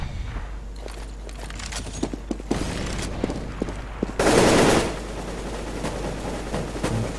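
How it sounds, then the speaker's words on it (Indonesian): Automatic gunfire spraying in a Counter-Strike match on the de_mirage map, sharp repeated shots in short bursts with a dense burst midway, over steady game ambience and footsteps, with no voices. "Kita lihat spray dari Skyred tadi tidak berhasil menemukan siapa-siapa"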